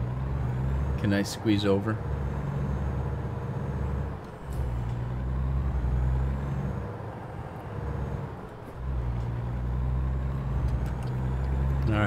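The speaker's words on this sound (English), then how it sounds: "Another truck's coming." A truck in American Truck Simulator, a steady low engine drone with a brief hiss of air brakes early on, heard near and constant while someone talks over it.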